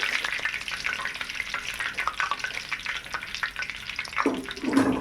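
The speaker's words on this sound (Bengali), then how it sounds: "বাকিগুলো আমি এরকমভাবে ভেজে নেব।" Chicken lollipops frying in oil produce a close, bubbling sizzle with uneven crackling bursts and scraping stir sounds, fluctuating in loudness throughout, with a brief clatter near the end.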